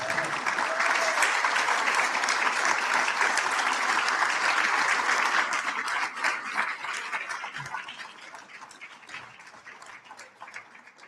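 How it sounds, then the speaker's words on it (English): An audience at a Spanish-speaking education network congress gives a full round of applause, loud and dense at first, then thinning into scattered claps as it fades over eleven seconds. "Give her a round of applause."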